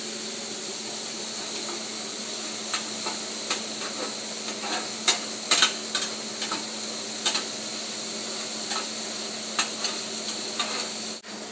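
Bison slider patties with cheese tucked inside the meat sizzle steadily in a pan, marked by occasional sharp pops and scrapes, close and alone.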